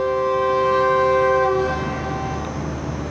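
Shalimar Express train pulling out of a small stop at Toba Tek Singh, Pakistan, with a loud sustained tonal horn-like blast for about a second and a half over steady rail rumble that continues after.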